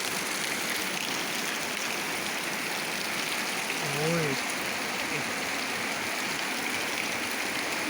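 Steady rain hisses across the whole clip, a dense even wash of falling water with a brief faint voice-like sound partway through.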